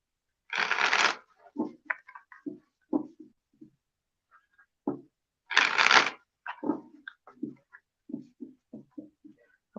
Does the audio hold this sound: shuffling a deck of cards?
yes